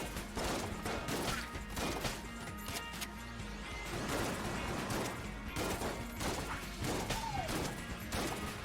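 Constant barrage of enemy bullet fire in the roguelike shooter Enter the Gungeon, a busy wash of overlapping pops, crashes and impacts with no pause, layered over game music.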